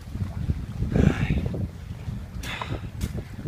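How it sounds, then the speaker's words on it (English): Gusty wind buffets the microphone in low rumbling bursts, with a couple of brief hissy rustles, outdoors at a winter camp late at night. "It's quite windy too"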